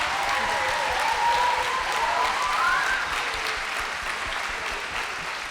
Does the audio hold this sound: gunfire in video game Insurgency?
no